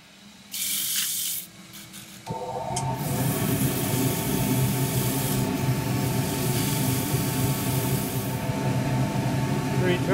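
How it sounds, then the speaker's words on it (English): Sandpaper rubbing a turned sheoak wood box spinning in reverse on a lathe, a steady hissing scratch over the constant motor hum after a short burst of hiss at the start. "so sand that in reverse."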